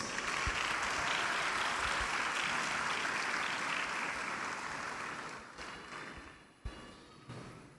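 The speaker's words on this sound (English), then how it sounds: "We welcome them warmly with a round of applause." A large audience gives a long, full round of applause, dense and sustained before gradually thinning out into scattered claps at the end.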